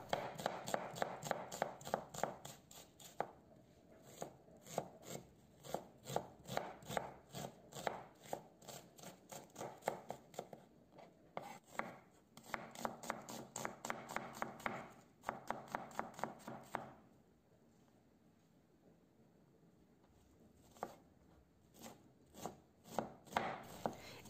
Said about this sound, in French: j'ai pris un oignon, je le coupe finement.